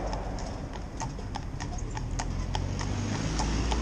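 Hooves of a bay cob carriage horse clip-clop steadily on a town road during driving training, in an even rhythm of sharp strikes over constant background rumble, with no talking.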